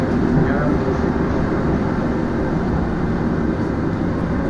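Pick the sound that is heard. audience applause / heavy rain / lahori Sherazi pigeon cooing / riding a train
riding a train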